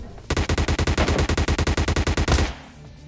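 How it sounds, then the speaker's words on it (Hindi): Rapid automatic gunfire from PUBG Lite gameplay, a burst of about twenty loud, evenly spaced close shots over roughly two seconds, no talk; footsteps are not distinct. "देखो फुटस्टेप्स भी आ रहे थे और गन शॉट्स की आवाज भी आ रही थी।"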